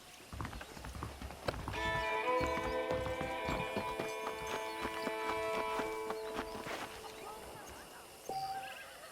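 Horse hooves clip-clop in Red Dead Redemption, rhythmic close hoofbeats with a whinny and sustained music tones over them, and someone talking across the scene.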